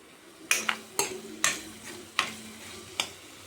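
A spoon stirs Andhra-style chicken curry masala with chili powder and garam masala in a pan, giving about six short scraping, clinking strokes over a soft sizzle, close and fairly quiet with no talk.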